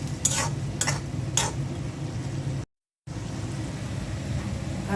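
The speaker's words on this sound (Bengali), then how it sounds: "আর চিংড়ি মাছ ভুনা করে নিচ্ছি" Shrimp frying in oil in a pan, a steady close sizzle with a few sharp scrapes of the spatula early on and a brief cut to silence midway.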